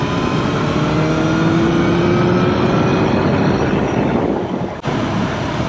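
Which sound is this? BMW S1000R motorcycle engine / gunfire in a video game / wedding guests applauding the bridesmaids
BMW S1000R motorcycle engine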